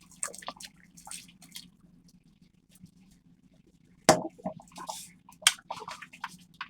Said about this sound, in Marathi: गरम पाणी घालून घेते.